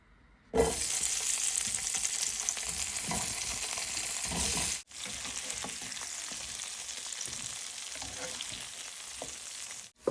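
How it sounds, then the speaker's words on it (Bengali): Eggplant and potato pieces fry in leftover fish oil, a loud steady sizzle that starts abruptly, breaks off for an instant midway, then carries on unbroken; no voices. "বেগুন আর আলু ভেজে নিব মাছের তেলে"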